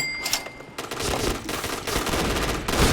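Rapid gunfire in the video game Point Blank, from an M1887 shotgun: dense, crackling bursts of shots repeat in quick succession, loud and close, after a short quieter lead-in.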